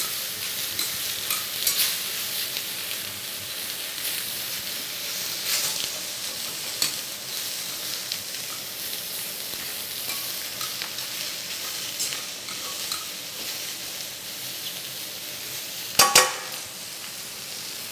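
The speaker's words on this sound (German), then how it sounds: "Ja, das hört ihr am Geräusch, am Bratgeräusch." Ox cheeks sear in oil in a pan with a steady, crackling sizzle throughout, occasional stirring scrapes and a brief sharper clatter near the end, with no speech.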